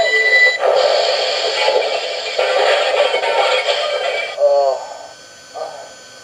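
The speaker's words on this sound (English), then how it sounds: "This is simulating a train wreck that would happen." Crashing, clattering train wreck sound effect from an MTH Railking New York Central L-3 Mohawk model locomotive with Proto Sound 2.0, with a continuous ringing, alarm-like din for several seconds, then voices in distress near the end.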